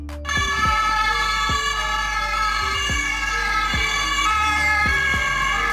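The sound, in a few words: German police car siren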